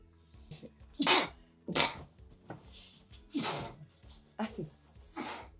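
Several sharp sneezes burst out in quick succession, loud and close, with a soft voice murmuring between them.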